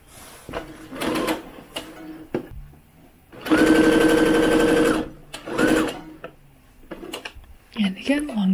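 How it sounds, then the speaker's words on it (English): A sewing machine runs in short stop-start bursts and one longer steady run, stitching a doll's dress with a normal stitch shifting into a loose basting stitch. The sound is close and moderately loud, with a person talking in the gaps. "Start with a normal stitch at the beginning, and then transition to the loose basting stitch."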